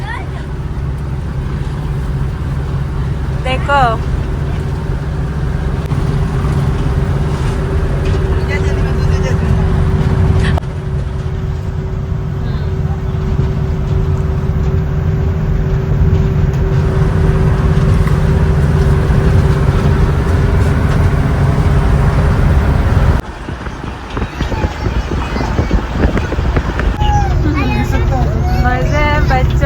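A Traveller bus rolls along a road in Porbandar with a steady low engine drone and road rumble, while passengers, including children eating snacks, chat throughout and a voice speaks close by.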